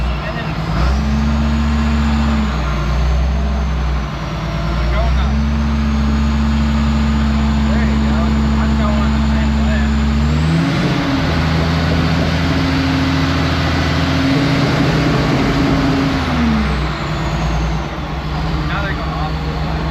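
A John Deere 850J dozer's diesel engine turns over, catches and settles into a loud, steady running rumble close by, with pitch shifts as revs change partway through and a faint voice briefly beneath it.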